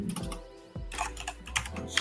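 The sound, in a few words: typing on computer keyboard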